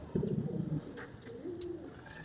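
Pigeons at a breeding loft coo softly, a couple of low, throaty rolling calls close by, with a short pause between them and no talking.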